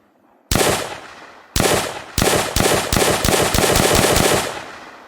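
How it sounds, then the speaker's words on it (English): Gunshots from a weapon in an Unreal Engine Nazi zombies game, set to eject empty cases; a loud single shot, another, then a rapid burst of close, sharp reports in quick succession. "And now when we shoot, it's only going to fire once."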